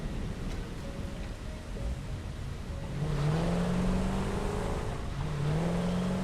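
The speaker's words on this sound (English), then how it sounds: "Oh, the meaty sound of that engine." A vehicle engine in the video game Satisfactory drones loudly, then revs up with a rising whine, eases off and climbs again, a steady motor roar throughout with no voices.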